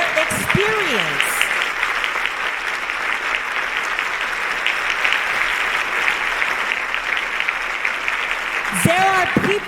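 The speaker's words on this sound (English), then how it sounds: "let's clap it up for everyone who is brave enough to live out their experience" A conference audience at a closing ceremony for a national health care for the homeless council breaks into loud, sustained applause, a dense even roar of clapping with brief voices at the start and end.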